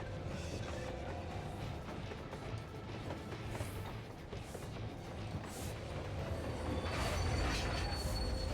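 A train in Final Fantasy XIV rumbles past in a steady, low, rolling roar, its wheels rattling and faint squeals rising near the end, with no voices over it.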